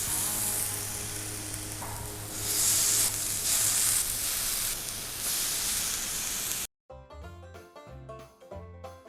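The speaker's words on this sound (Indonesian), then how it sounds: "Oke, nah sebelum itu kita kasih dulu sedikit minyak zaitun. Nah, alright, sekarang langsung saja kita panggang" Meat sizzles loudly on a grill brushed with olive oil, a steady frying hiss that cuts off abruptly near the end, where music takes over.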